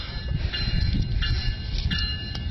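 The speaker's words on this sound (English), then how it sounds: "Train stopped right before he moved." Train rumbling on a railway as it comes to a stop, a heavy low-pitched roll with metallic squeals and clanks heard close by, loud and continuous for a couple of seconds.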